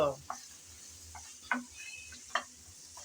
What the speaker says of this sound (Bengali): সজনে ডাটা দিয়ে নেড়ে চেড়ে একটু ভালোভাবে বেজে নেব